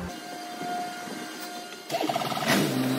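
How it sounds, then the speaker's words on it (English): A Kenworth T680 truck with a coolant sensor fault starts up: a steady low hum and faint tone give way to a sudden cranking surge as the diesel catches, then a rougher running rumble, nearby with no talk. "I'm gonna start the truck up."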